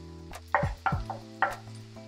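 Chicken and pepper frying in a hot pan, with several sharp sizzling bursts and clatters of stirring at close range, no voices.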